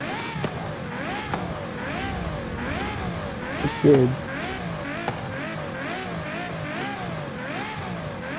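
A Ferrari LaFerrari hypercar in Forza Horizon 5 holds a steady engine tone that rises and falls in a regular repeating cycle, with a brief louder burst midway and a few short words spoken over it.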